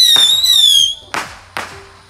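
Fireworks going off outdoors on the Fourth of July: a rising whistle, then two sharp, loud bangs a short moment apart, each trailing into a crackling decay.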